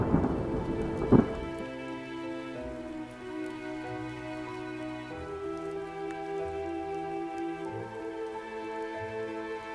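Steady rain falls close by while a loud thunderclap cracks near the start, then rumbles on under continuous rainfall.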